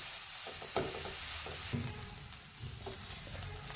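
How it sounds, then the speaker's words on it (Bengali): Carrot payesh being stirred slowly in a pan, with soft scraping strokes and faint low sizzling across a steady, continuous bed of cooking noise, without any talking. "আস্তে আস্তে নাড়বো এটাকে, আস্তে আস্তে নাড়তে হবে যেন এটা লেগে না যায়।"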